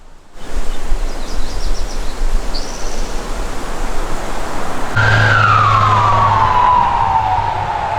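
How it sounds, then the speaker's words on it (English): A siren wails in the distance over steady road noise, its pitch sweeping downward as it passes, growing clearer toward the end. "Ambulance."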